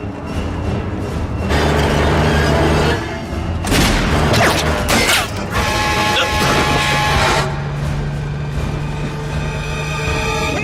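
Gunfire aimed at a vehicle's tires in a video game, with loud crashing, booming bursts and mechanical clatter over a constant engine-like drone.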